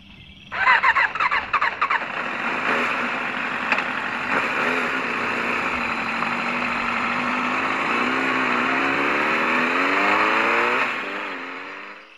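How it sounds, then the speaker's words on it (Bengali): A motorbike engine revs and pulls away as a sound effect in an audio horror story, the loud rising whine holding steady for several seconds before fading out. "আমাকে নামিয়ে দিয়ে বাইক চলে গেল।"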